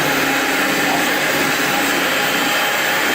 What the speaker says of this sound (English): you must put it inside the mixer at all times